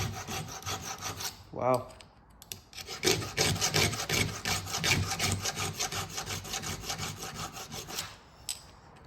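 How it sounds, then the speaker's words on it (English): A new flat file rasps rhythmically across the rakers of a chainsaw chain during sharpening, a steady run of close, gritty strokes after a brief spoken exclamation. "this new flat file is shredding through these rakers"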